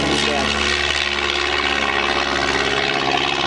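A 1945 Stampe SV4C biplane engine drones loudly and steadily in flight, a continuous close propeller roar with a faint voice murmuring under it.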